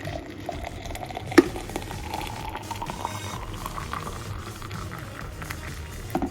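Hot water poured into a cup holding Herbalife Afresh energy drink powder, a soft continuous bubbling, liquid stream running for several seconds at moderate level with a brief clink near the start.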